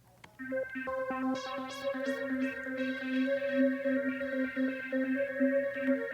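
Electronic tracker music plays through a filter, bright tonal notes and a steady bass pattern shifting in timbre as settings change.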